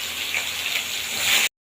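Chopped onions hitting hot oil with bay leaves and dried red chillies, giving a loud, steady hiss and sizzle that swells briefly before cutting off abruptly.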